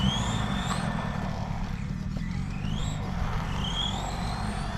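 A Tamiya XV01 brushless RC car runs around a parking lot circuit, its electric motor whining and sweeping up and down in pitch as it accelerates and brakes, over a steady low background rumble.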